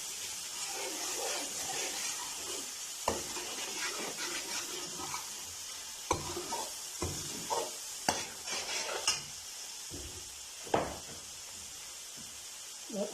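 A spoon stirs ginger garlic paste frying in a pan for egg masala, scraping steadily under a continuous sizzle, with sharper clinks of the utensil against the pan at intervals.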